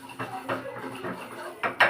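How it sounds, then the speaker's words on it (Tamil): Coriander powder and asafoetida stirred in a cooking pan for a tamarind-leaf chutney, giving a few scraping, clinking strokes of a spoon against metal, close and moderately loud, with a sharper clatter at the end. "மல்லித்தூள், பெருங்காயத்தூள் இதெல்லாம் போட்டு நல்லா கிண்டிட்டு"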